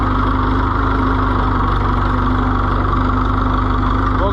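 An Oliver 1365 tractor engine runs steadily close by, a loud continuous low throb with even rhythmic pulsing and a steady hum, no voices over it.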